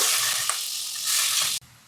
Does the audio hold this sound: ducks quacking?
no